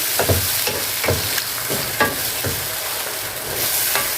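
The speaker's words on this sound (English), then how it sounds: "what I have here is I have curry, thyme, black pepper, white pepper. Just give it a nice stir." Yam sauce with curry, thyme, black pepper and white pepper stirred in a pot: a constant close sizzle with spoon scrapes about every half second, no voices.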